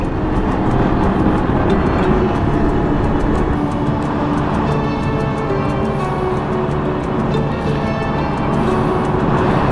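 Steady, loud drone of a vehicle engine with wind rush on a Moroccan road while passing a three-wheeled vehicle, continuous throughout with no distinct pass-by peak.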